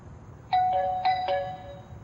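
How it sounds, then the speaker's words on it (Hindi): A doorbell chimes several quick ding-dong tones in succession, ringing out clearly over a quiet room background. "घंटी बज रही है"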